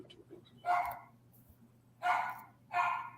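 A dog barks three times in separate bursts, moderately close, over a low steady hum with no talking.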